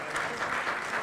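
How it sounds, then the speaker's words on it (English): A round-table audience gives a short, dense burst of applause as the panelists leave, steady clapping filling the room. "Can we please give them another round of applause as they leave?"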